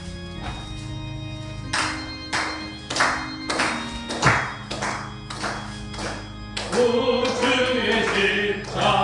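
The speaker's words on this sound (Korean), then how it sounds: "박수 치면서 함께 부릅니다" Congregation clapping along to a hymn at a Korean Sunday church service, a string of loud, evenly spaced hand claps before singing voices rise over the last seconds.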